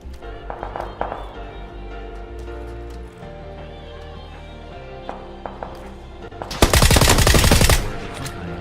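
Gunfire in the video game PUBG: a steady run of shots early on, then a loud dense burst near the end over a low in-game hum.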